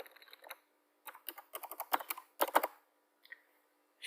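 Computer keyboard keys tapped out in short bursts while a username is entered, crisp close clicks separated by brief pauses, alone in a quiet room.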